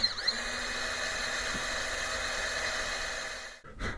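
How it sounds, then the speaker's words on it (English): A hand drill bores out a snapped bolt, a steady close whirring with a faint squeal at the start, cutting off abruptly near the end before a brief restart. "while we're drilling."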